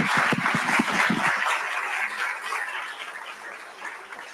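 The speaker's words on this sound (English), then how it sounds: "Let's give them a round of applause again." Audience applause after a ceremony proclaiming Childhood Cancer Awareness Month, a steady wash of clapping that is dense at first, then thins and fades out, moderately loud and without speech.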